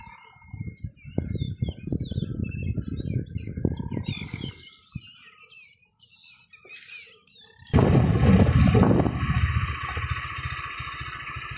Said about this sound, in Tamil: இங்கே பாருங்கள் அழகான பறவைகள் இருக்குது